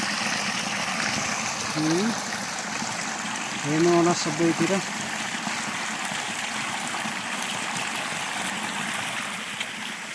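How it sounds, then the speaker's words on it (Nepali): A mountain stream rushes steadily with a broad, even hiss of flowing water, and someone speaks briefly over it. "यो खोलाको पानी, पहाडतिर यस्तो पानी बग्छ।"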